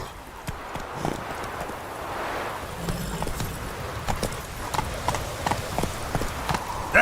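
Roach the horse gallops in The Witcher 3, rapid rhythmic hoofbeats clip-clopping steadily with a brief whinny near the end, fairly close over a soft ambient bed.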